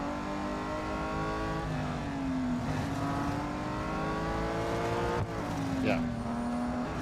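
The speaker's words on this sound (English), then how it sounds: "Volkswagen GTI. I think it's 2021 version." A 2021 Volkswagen GTI races in the mobile game Real Racing 3, its engine droning steadily with pitch sweeps as it shifts and accelerates, plus brief tire noise; game audio plays continuously without talk.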